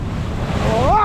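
A big ocean wave crashes on the shore at Leo Carrillo beach, a loud, close, broadband roar that swells over about a second while a voice rises briefly over it.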